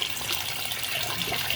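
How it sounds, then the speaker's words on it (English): Cold water gushes from a Homevacious widespread LED bathroom faucet into the basin, a steady, even rushing flow with no voices. "now I'm going to add the cold water"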